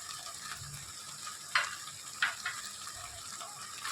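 Crushed ginger, garlic and green chilli sauté in hot oil in a pan, a steady close sizzle with two sharp scraping stirs of a spatula partway through, no talking.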